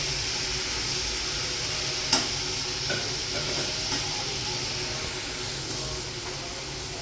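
Steady, broad hiss of aubergine and potato frying in hot tempering oil, continuous throughout, with a couple of faint clinks; no talking.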